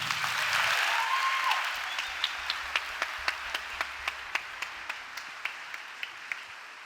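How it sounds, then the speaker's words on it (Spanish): Audience applause welcoming speaker Marta Rodríguez at a Betel gathering, a full burst of clapping that fades into a few scattered, evenly spaced claps from a handful of people. "Un fuerte aplauso para Marta"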